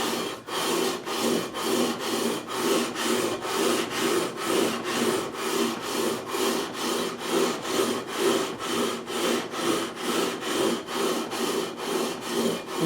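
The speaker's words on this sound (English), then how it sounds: "I'm going to take the 400 grit. And if these frets are level, we should remove all of this pretty quickly." Guitar frets on a Tokai Explorer with a bent neck being levelled with 400 grit abrasive: close, steady back-and-forth rasping strokes in an even rhythm, about two per second, with no talking.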